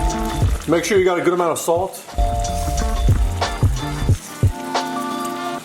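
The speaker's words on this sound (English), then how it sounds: "I'm just gonna throw some beans into this pan right here" Beans tossed into a pan with leftover oil crackle and sizzle under steady talking, with clinks and scraping in the pan along the way.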